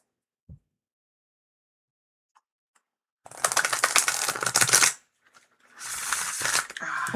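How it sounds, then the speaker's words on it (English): Two bursts of rapid fluttering riffles as a deck of tarot cards is shuffled, the first about a second and a half long, the second after a short pause, following a faint tap. "Ah, love that shuffle. It's a good shuffle."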